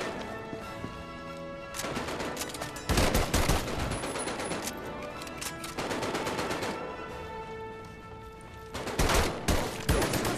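Gunfire in the World War II shooter Medal of Honor: Above and Beyond, with loud bursts of rapid automatic shots arriving in several heavy volleys separated by shorter gaps, plus scattered single cracks and metallic clatter.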